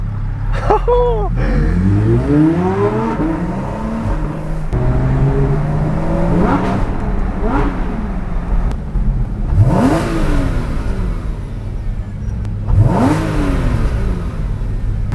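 A Porsche sports car engine revs repeatedly in loud rising bursts while sitting in a traffic convoy, idling steadily between them, with traffic noise around it.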